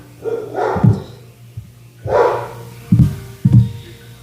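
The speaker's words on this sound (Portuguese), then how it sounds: "Teve um cachorro aqui que latiu, eu me perdi." A dog barks several times nearby, loud sharp barks in two short bursts with no talking.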